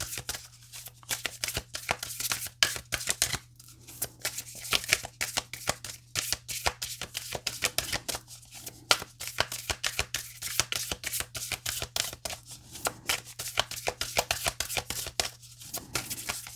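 A tarot card deck shuffled steadily throughout, a dense run of crisp riffling and slapping card sounds at close range, with a low steady hum underneath and no talking.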